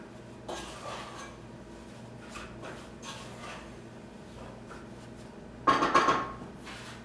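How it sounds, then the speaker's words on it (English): A spoon stirring strawberry jam in a pot, with scattered soft scraping knocks and one louder clanking scrape of metal against the pot near the end. "I'll give it a little stir here."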